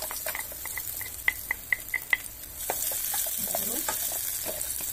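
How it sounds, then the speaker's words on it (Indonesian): Garlic sautés in oil or margarine for a steamed soup, a row of sharp utensil taps on the pan followed by a rising, steady frying hiss with stirring scrapes, close and moderately loud. "Nah, tumis."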